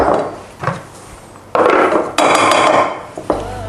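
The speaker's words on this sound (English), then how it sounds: "And some water. I'm just going to give it a stir." Water stirred into a still-warm pan to deglaze it, with a spoon scraping and clattering against the metal in several loud bursts, close by with brief pauses between strokes.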